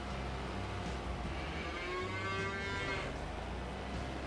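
Cattle mooing in a farming video game on an Ohio farm, a drawn-out low moo rising and falling over constant background machinery hum, fairly faint.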